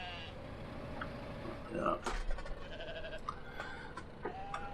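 Sheep bleat in short calls on a farm amid a busy outdoor background, with a brief spoken word and other voices nearby.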